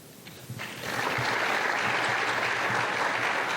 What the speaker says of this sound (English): it's a lot of clapping